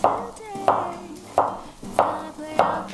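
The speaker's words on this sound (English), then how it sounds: "While the potato is cooking, I'm going to go ahead and slice some onion." An onion is sliced with a knife on a board while potatoes cook, giving five evenly spaced, crisp chopping thuds at a slow, steady pace, close and clear.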